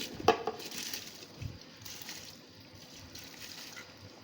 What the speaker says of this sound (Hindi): अब हम इसके अंदर चावल जो हमने धो के रखे थे वो डाल देंगे